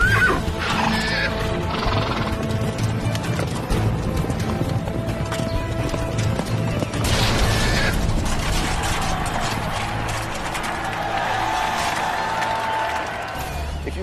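Horses at a knights' joust trot and clatter with clip-clop hooves and whinnies, mixed with metallic rattling and clanking of armour or gear, busy and continuous throughout with no clear talk.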